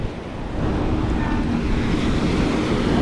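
A breezy wind gusts at South Beach, loud and close as it buffets the microphone in a continuous roar over the surf, with no voices.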